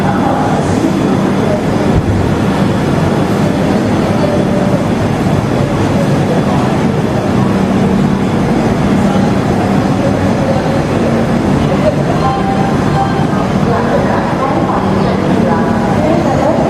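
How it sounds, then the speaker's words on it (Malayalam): Amritha Express train pulling out of Thiruvananthapuram Central station: a continuous low rumble and rolling clatter of the carriages, fairly loud and close, with faint voices in the background. "കറക്റ്റ് 8:30 തന്നെ നമ്മുടെ ട്രെയിൻ പുറപ്പെട്ടിരിക്കുകയാണ്."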